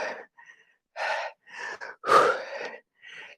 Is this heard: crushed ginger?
no